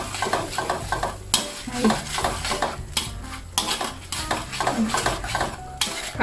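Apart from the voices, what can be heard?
stir-frying squid with salted egg yolk in pan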